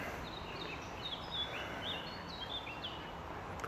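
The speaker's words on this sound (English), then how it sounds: "Got some nice bird sound." Birds sing by Westport Lake in Stoke-on-Trent, faint high chirps and short whistled phrases repeating over a steady outdoor background hiss, heard from a distance with no one talking.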